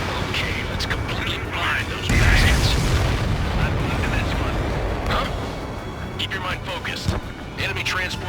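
A heavy explosion booms as an enemy transport is destroyed in the combat flight game Ace Combat 7: Skies Unknown, a loud low rumble swelling at about two seconds and rolling on under radio chatter and jet noise.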